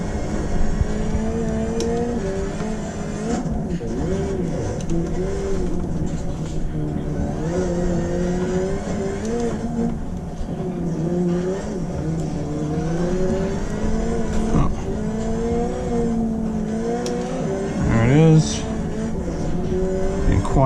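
A rally car in Richard Burns Rally, played on a Thrustmaster wheel, drives a stage with a continuous engine drone rising and falling through gear changes, with a brief louder surge near the end.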